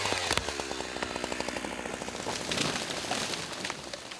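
A chainsaw roars continuously while felling trees in a snowy Siberian forest, loud and close with a steady buzzing engine drone and slight rises in pitch as it cuts.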